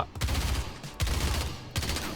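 Rapid automatic gunfire from a weapon in the video game Overwatch 2, firing in three dense bursts with short gaps between them, loud and close with no talking.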